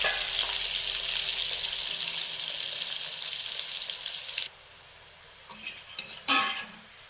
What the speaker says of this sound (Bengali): এবারে এই একই তেলে আমি বেগুনগুলো ভেজে নেব।